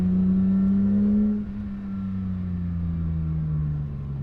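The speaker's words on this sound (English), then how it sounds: "The tone that the titanium exhaust is putting out, it's just turned it up a notch" A sports car engine running through a titanium exhaust gives a strong, droning tone that holds and then eases down slightly, with no voices over it.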